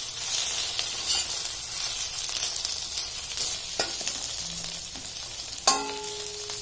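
Tomatoes and green chillies stirred into browned onions in a pan while cooking spicy dry aloo sabji give a steady close sizzle and frying hiss, with a few scraping stirs and a clack near the end.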